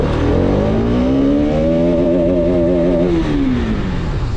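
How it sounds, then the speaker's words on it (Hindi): A Bajaj Pulsar RS200 motorcycle accelerating hard in first gear, its engine note climbing steadily in pitch, loud and close, then levelling off near the top of the gear. "पहले गियर पे RS 200 भाग रही है भाई 46"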